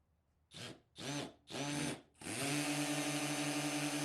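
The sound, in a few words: cordless drill spinning drill bit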